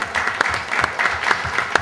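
Audience applause at a literary round-table event in Spain, a steady patter of hand claps in a medium-sized room, moderately loud and continuous with a few sharper individual claps standing out.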